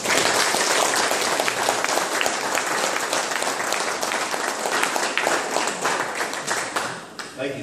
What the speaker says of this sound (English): please join me in giving aviation's number one fan, Governor Hutchison, a round of applause.